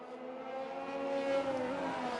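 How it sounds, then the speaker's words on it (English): In an F2 racing video game set at Abu Dhabi, a race car engine idles with a steady, even hum that swells slightly, heard alone without commentary. "I can hear an engine ticking over"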